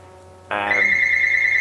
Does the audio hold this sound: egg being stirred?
no